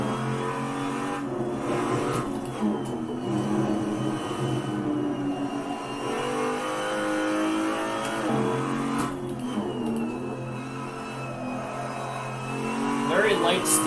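A BMW M235i on the Nordschleife in the Assetto Corsa racing game drones continuously, its engine note rising and falling through gear changes and revs, at moderate loudness throughout.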